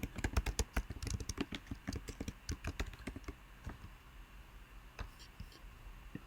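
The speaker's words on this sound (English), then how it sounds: "Let's type in a file name." A file name is typed on a computer keyboard as a quick, steady run of close, soft key clicks that slows and thins toward the end, with no voices.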